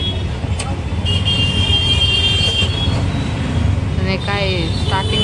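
Busy road traffic rumbles steadily around a rickshaw on the way home, with engines droning close by and several short car horn toots cutting through. Voices talk over the din.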